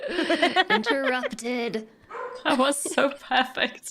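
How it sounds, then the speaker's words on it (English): A pet dog barking faintly in the background of a home podcast recording, several short yips and barks mixed under continuous talking. "I think that's my dog."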